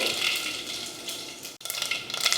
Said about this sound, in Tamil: எண்ணெய் காஞ்சதுமே கொஞ்சம் கடுகுளுந்து